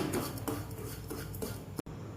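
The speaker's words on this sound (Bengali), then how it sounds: "তারপরে আবার একটু নাড়িয়ে নিলাম।" A spoon scrapes and stirs semolina pudding in a pan, a soft, close, rhythmic scraping and clinking that is faint and steady, with a short gap near the end and no talking.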